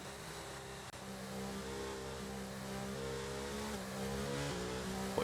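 Race car engines lapping the Spa circuit in a racing video game: a steady, fairly quiet engine drone with rising and falling revs and gear changes, no voices over it.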